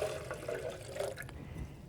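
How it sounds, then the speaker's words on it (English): Filtered water poured into a blender jar, a soft continuous splashing gush, close but fairly quiet, with no voices. "So we're going to put 4 cups of filtered water into this blender"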